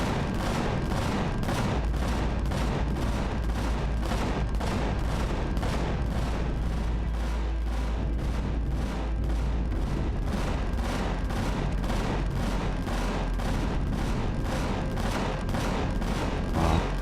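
Sustained gunfire in an Empyrion space battle against a carrier, a steady, rapid rhythm of heavy automatic shots pounding continuously for the whole stretch over a deep rumbling drone, loud and unbroken.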